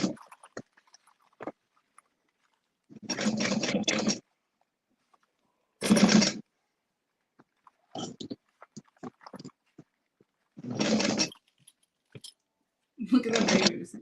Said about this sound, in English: There we go. We're ready to sew.